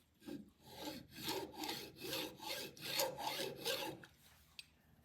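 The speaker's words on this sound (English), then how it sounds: "if you take a flat file and just go across here gently" A flat file drawn gently across the metal face of a part on a BSA 441 Victor motorcycle, giving about eight rhythmic rasping strokes that fade out, up close with no talk.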